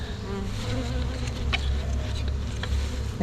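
A cluster of honey bees buzzes steadily as they are put into an 8-frame hive box in a bee yard around sunset, a dense continuous hum up close with occasional light taps.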